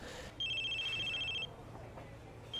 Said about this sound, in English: Mark gets interrupted by a phone call from Cecil.